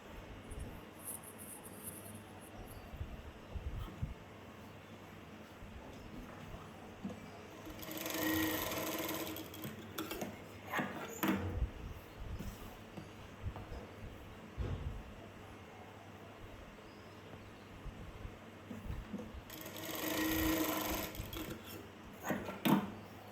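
A sewing machine stitches blouse fabric strips together, with two distinct bursts of rapid stitching separated by quieter handling and rustling of cloth.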